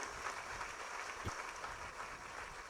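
Audience applause at a Gurupurnima Mahotsav religious gathering, a steady, fairly faint wash of many hands clapping that continues evenly, with no talk over it.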